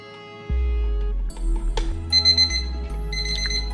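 A Sony Dream Machine alarm clock's electronic alarm tone rings steadily, shifting into a warbling, pulsing beep pattern with bright high tones over a low electrical hum.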